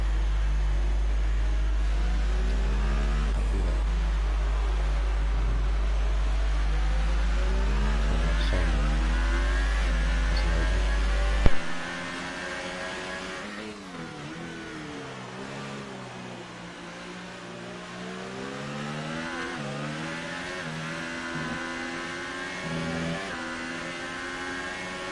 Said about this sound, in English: Benjamin's drifting around the corner.